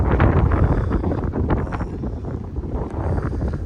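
Strong wind buffets the microphone in loud, rumbling gusts, with no voices heard, steady and close for a few seconds.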